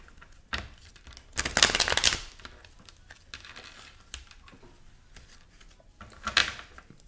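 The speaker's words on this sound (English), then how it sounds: "We're going to get a couple more shuffles." Papery riffles and snaps of cards being shuffled, a loud burst early on, then quieter handling and another short flurry near the end.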